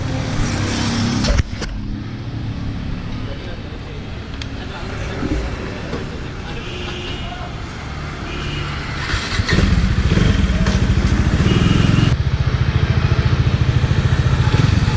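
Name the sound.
2019 Bajaj Dominar 400 motorcycle test ride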